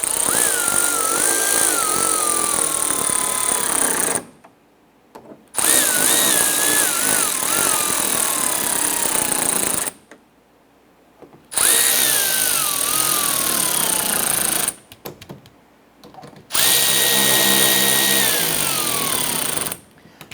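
A power tool drives screws through a Cadillac Escalade fender liner into the bumper in four separate whirring bursts of several seconds each, the motor's pitch sliding down as each screw snugs tight, with short silences between.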